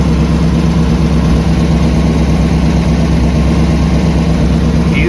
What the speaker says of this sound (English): So it's still on high idle right now, so I'm going to go ahead and let it warm up for a few minutes